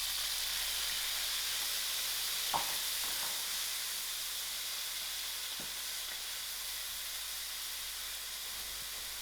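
Tomatoes land in a hot pan and set off a steady, moderate sizzle and hiss, broken by a few soft clinks and stirring taps.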